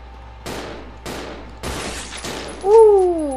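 Four loud gunshots fired in quick succession while fighting zombies in Resident Evil 0 HD Remaster, each with a sharp crack and decaying tail, followed by a rising electronic tone.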